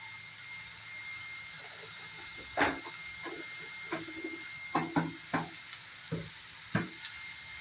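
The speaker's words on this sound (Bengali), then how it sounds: "সবগুলো জিনিস আমি একসাথে ভালো করে ভেজে নেব।" Spices and jackfruit curry ingredients fry together in a pan, making a steady soft sizzle with several sharp stirring scrapes and clinks at irregular intervals, close and without talk.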